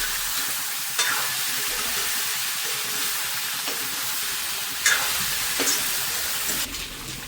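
Potatoes and turmeric are stirred into a frying pork dish, giving a steady close sizzling hiss with occasional sharp scrapes of a spoon against the pan and no talk.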